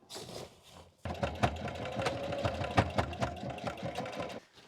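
A sewing machine stitches a boat bimini, starting after a second with a steady rapid mechanical chatter and motor hum, close and continuous for several seconds before stopping.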